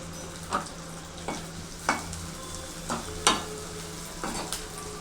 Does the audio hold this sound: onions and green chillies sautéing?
yes